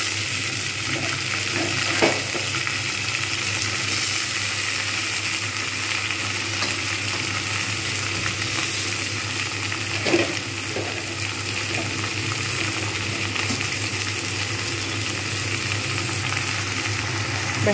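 Chopped water spinach (kolmi shak) frying in a pan over lowered heat gives a steady, continuous sizzle with faint stirring scrapes and a couple of brief clatters, no voices.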